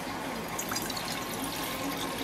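Water pours steadily into a cooking pot for a Rasna drink, a continuous close splashing rush with no talk over it.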